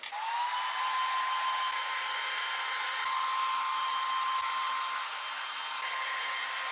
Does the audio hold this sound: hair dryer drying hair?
yes